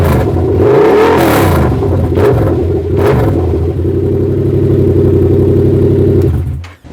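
A 2022 Yamaha R7 parallel-twin motorcycle engine idles loudly and is revved a few times in quick bursts, each rev rising and falling back to a rumbling idle.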